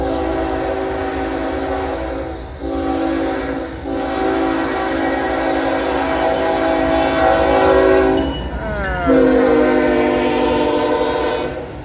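Loaded eastbound Norfolk Southern coal train rolling through Suffolk, Virginia, its horn blaring in long sustained blasts over the steady rumble and rail noise of passing cars, with a brief break and a shifting horn tone near the end.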